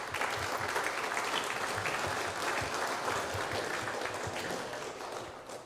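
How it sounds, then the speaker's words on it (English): Loud sustained applause from the crowd at a 2024 fishing tournament opening ceremony and anglers meeting, thick continuous clapping that stays steady and tapers slightly at the end. "they really deserve a round of applause for their work"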